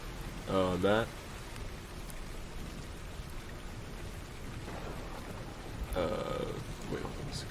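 Continuous soft rain ambience from a rain noise app hisses under the whole stretch, briefly interrupted by short low voiced sounds near the start and end.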